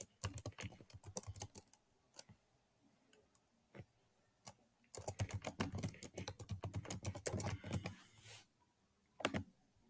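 Bursts of typing on a computer keyboard, with rapid clusters of keystrokes separated by short pauses and a dense flurry in the second half, close and clear with no talk.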